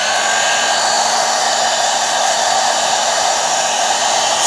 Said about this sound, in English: blow dry it to make it faster.